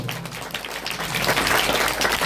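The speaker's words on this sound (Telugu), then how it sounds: "వాళ్ళ కోసం గట్టిగా క్లాప్స్ కొడతాము ఒకసారి" Steady applause from a school audience at a semi-Christmas celebration, many hands clapping together and growing slightly louder toward the end.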